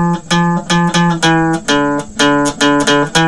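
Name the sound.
guitar playing a rockin' riff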